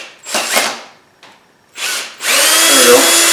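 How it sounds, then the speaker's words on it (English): Cordless drill in forward, low gear, loosening the chuck screw: short loud whirring bursts separated by pauses, then a sustained steady run of the motor close to the microphone. "we're going to use the strength of the drill."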